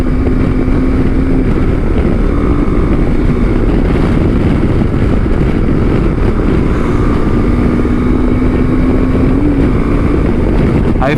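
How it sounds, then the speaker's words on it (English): A KTM Adventure 390 motorcycle engine drones steadily while riding, with constant wind rush buffeting the microphone and a faint steady whine throughout. "I feel like only there's half throttle in my KTM"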